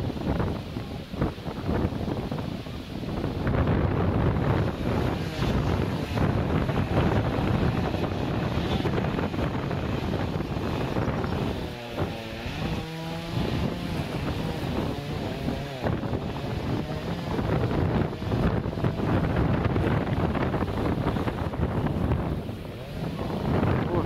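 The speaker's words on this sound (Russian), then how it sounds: "А ветер такой дует" Strong wind buffets the microphone continuously beside a channel of the Ob River, a heavy roaring rush that barely lets up, with water sounds faintly underneath.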